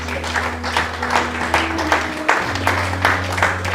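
Church congregation applauding during worship, a steady wash of clapping with rhythmic accents over a sustained low organ or keyboard drone that shifts pitch midway; no clear talking.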